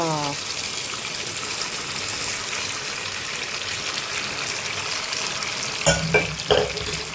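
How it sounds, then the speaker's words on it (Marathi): Turmeric is stirred into food frying in a pan, with a steady sizzle throughout and a few sharp knocks of the spoon against the pan near the end. "हळसाणो घातलो तेका बरें मिक्स करता आनी मातशा वगत शिजपाक दवरता."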